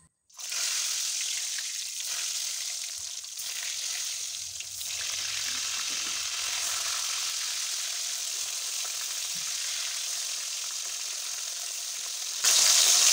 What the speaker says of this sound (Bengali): এখন আস্তে আস্তে তেলের মধ্যে পটল দেব।